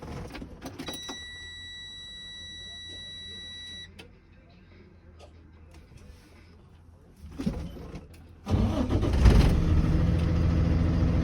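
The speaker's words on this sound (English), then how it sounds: "Engine on." A truck in a cab inspection: a high electronic warning buzzer tone, a quiet pause, then the engine cranks and starts, settling into a loud, steady idle rumble close by.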